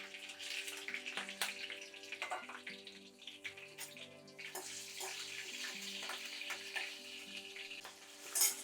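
Fennel seeds and slit green chillies frying in oil in a pan give a soft, continuous sizzle with occasional stirring scrapes, close but quiet, with no talk.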